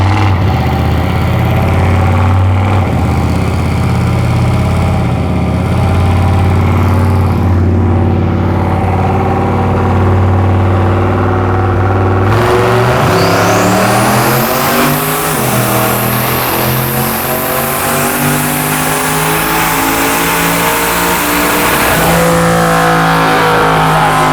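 A 600-horsepower turbocharged Lincoln on nitrous idles with a loud, lumpy rumble, then fires up into hard, rising revs with turbo spool whine, engine note climbing and dropping repeatedly close by.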